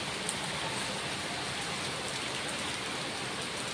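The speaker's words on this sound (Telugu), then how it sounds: "చాలా అంటే చాలా ఘోరంగా పడుతుంది వర్షం" Heavy rain pours down in Vijayawada as a dense, steady hiss of drops hitting surfaces, even and unbroken from start to finish with no voices.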